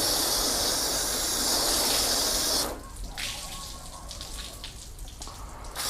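Water sprays hard across a car panel being tested with 303 and Turtle Wax graphene sealants, a loud steady hiss that drops to a softer, patchier splatter halfway through.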